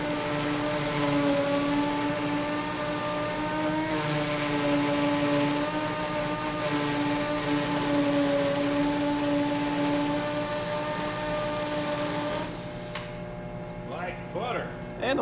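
A WORKPRO 20V cordless drill running steadily in hammer mode gives a loud, continuous mechanical whir with a rapid hammering rattle. It is close and unbroken for about twelve seconds, then stops abruptly, leaving quieter handling noise.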